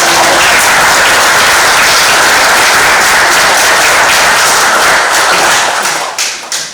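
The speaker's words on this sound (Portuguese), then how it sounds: "Para bater palmas à vontade" Loud, close audience applause at a public talk, dense continuous clapping that thins into a few scattered claps at the end.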